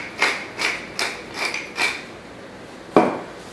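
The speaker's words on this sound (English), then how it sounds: "lots of fresh ground pepper." A pepper grinder turns in five quick, evenly spaced crunchy bursts, close by, followed by a single sharper knock.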